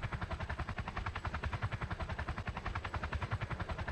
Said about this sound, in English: There is an enemy 50 cal chopper up in the air.